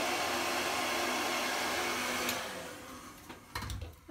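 A hair dryer blows steadily while hair is styled with a round brush, a constant loud whooshing roar that fades out partway through, followed by a few brief handling sounds.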